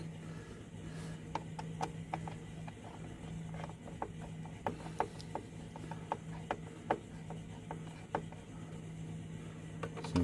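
Screws are tightened down on a PC CPU cooler with quiet, irregular ticking and ratcheting clicks from the screwdriver over a faint background hum.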